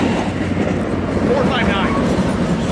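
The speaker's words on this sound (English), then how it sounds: "Good train there goes into Fullerton" A northbound Amtrak passenger train heading into Fullerton toward Los Angeles rolls past close by, a steady rumble with faint clickety-clack of wheels on rail, continuous throughout.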